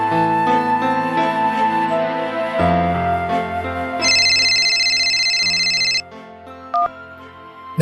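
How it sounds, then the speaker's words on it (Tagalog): A phone rings with an incoming call, a loud synthesized ringtone melody playing in stepped electronic notes with a shrill high layer joining midway, then cutting off. "Tinawagan ko siya via drop call ng mga oras na yon."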